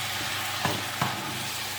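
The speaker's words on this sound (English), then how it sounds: "Just keep stirring. It's called a stir fryer for a reason." Chicken chow mein stir-fried in a pan, a dense steady sizzle broken by two quick scraping thuds of the stirring utensil, close and without speech.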